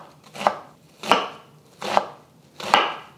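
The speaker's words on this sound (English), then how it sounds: "I'm gonna try to cut this into little pieces, minced, I guess, or just chopped" A knife chops an onion on a cutting board in four slow, evenly spaced, crisp strokes, each a sharp close thud with a brief crunch, and nobody talks.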